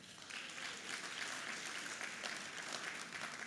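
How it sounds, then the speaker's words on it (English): Steady applause from an audience at a football press luncheon honoring North Carolina A&T's Celebration Bowl win, a dense, continuous clapping that holds evenly for several seconds without talk. "How about another round of applause for North Carolina A&T and representing the MEAC Conference"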